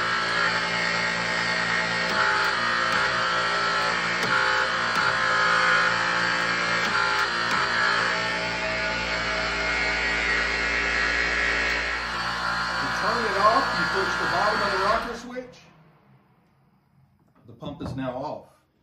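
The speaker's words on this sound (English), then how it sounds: "I'm gonna push and hold, it's gonna pump." A hydraulic torque pump for industrial bolting runs steadily, a loud mechanical drone that pumps under pressure for about fifteen seconds, then cuts off abruptly. A brief mechanical burst follows near the end.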